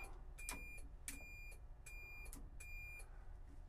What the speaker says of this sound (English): It's got a buzzer on there too.